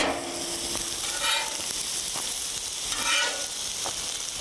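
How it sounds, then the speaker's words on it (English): Pancakes frying in a pan with a steady broad sizzle, a few soft scrapes and light taps of a spatula as they are flipped, close and alone with no talk. "Time to flip the pancakes."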